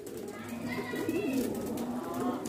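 Kalsire Kalkanpe pigeons belonging to Zahid Bhai in Tonk, Rajasthan coo softly in low, rolling murmurs, close by against a faint busy background.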